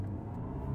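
BMW car accelerating hard from a standstill, a brief low rumbling engine drone heard from inside the cabin, steady and fairly loud.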